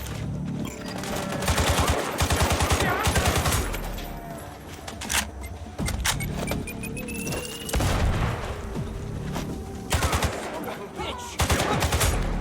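Gunfire in Sniper Ghost Warrior Contracts 2: repeated bursts of automatic fire and sharp shots come in clusters across the clip, loud and close, with short pauses between volleys.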